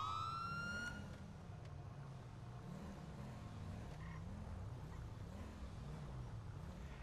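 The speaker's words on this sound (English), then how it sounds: "Units got sirens." Police car sirens wail in the GTA 5 video game, a cycling wail with a brief yelp burst at the start, fairly faint and continuous throughout.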